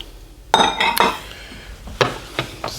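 Chicken and broccoli get tossed in a pan, giving a couple of clattering pan and utensil knocks followed by a few lighter clinks, close by with no talk.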